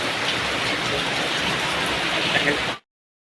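Steady rain pours down outdoors as a dense, even hiss close at hand, holding at the same level for nearly three seconds before cutting off abruptly to silence.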